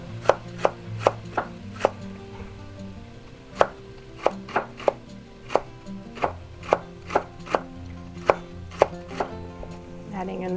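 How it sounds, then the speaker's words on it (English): Steady knife chopping of vegetables on a cutting board, crisp regular thuds repeating at a brisk pace, close and clear with no talking. "I'm going to start chopping up the vegetables."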